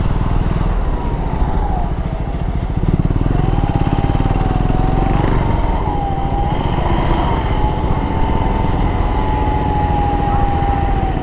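A customized KTM 390 Adventure motorcycle engine running steadily and close, a constant buzzing drone with a wavering whine, loud and uninterrupted throughout.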